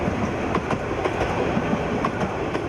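Train on the Dhaka-Chattogram route, a steady rolling rumble with rhythmic clickety-clack of wheels over rail joints, heard from close by without voices.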